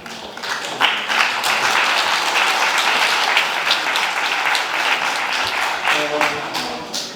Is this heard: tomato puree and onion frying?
no